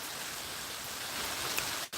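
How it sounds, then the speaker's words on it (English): Heavy rain falls outside in a constant, even hiss that swells slightly before dropping out briefly near the end. "man, it's really coming down now"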